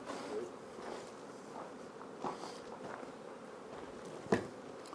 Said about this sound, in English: This box is now loaded with bees.